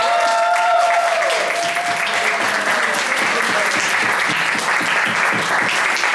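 An audience claps at a live drag-queen Dungeons and Dragons show in a bar, steady enthusiastic applause throughout with some crowd noise and a faint voice underneath.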